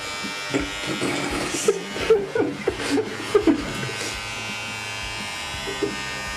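An electric shaver buzzes steadily and close by, its droning hum broken by scattered clicks and shifts in pitch as it moves.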